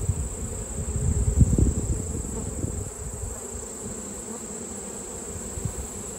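Honey bees hum as a continuous, dense drone from an open hive with brood frames, loud and close, with a brief swell of louder buzzing near the start.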